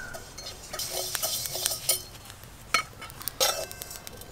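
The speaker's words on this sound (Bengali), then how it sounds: "গোটা জিরে আচারের জন্য এই মশলা কিন্তু তেল দিয়ে ভাজলে হবে না শুকনো কড়াই ভাজতে হবে" Whole cumin and panch phoron dry-roast in a dry kadai for pickle, the spatula scraping and clinking against the pan in irregular bursts with quiet gaps between.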